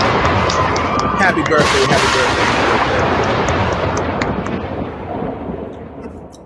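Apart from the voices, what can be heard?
soundboard air horns and big crowd cheer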